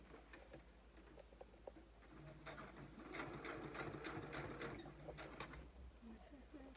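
A sewing machine runs close by, top-stitching the straps of a cami peplum top, its needle chattering in a steady fast rhythm that swells for a few seconds in the middle before easing off.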